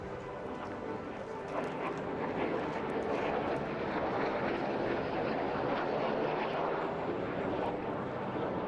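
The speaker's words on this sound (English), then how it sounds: "You'll be watching Ken Arkvila in the MiG-15." A MiG-15 jet flies along the display line at the Eastbourne International Airshow, its engine a broad, steady roar that swells slightly and holds loud throughout, with no voices.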